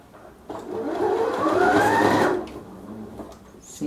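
Sewing machine stitching a giraffe-themed nursing pillow, a single fast whirring run of about two seconds that rises in pitch and then winds down, close and fairly quiet, with no voices.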